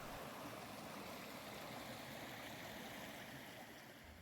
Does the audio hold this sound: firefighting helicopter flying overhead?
no